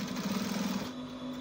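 A sewing machine runs steadily as a shirt's notch collar is stitched around, giving a continuous close whirring hum.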